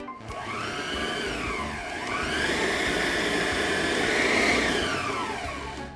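An electric mixer whirs steadily through brioche batter with eggs, its pitch dipping and rising as the beaters move through the mixture, loud, close and continuous with no talking.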